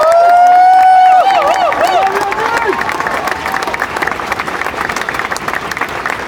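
A crowd at a speaking event applauds an immigration and security team, with loud, sustained clapping and some cheering that slowly fades, while a voice speaks over the start.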